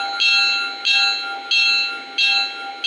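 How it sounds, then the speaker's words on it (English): A bright model-train locomotive bell, on a Lionel Legacy F7 Burlington Northern unit, rings in a steady repeating pattern, four even strokes about two-thirds of a second apart, loud and close, with no voices. "Listen to the bell."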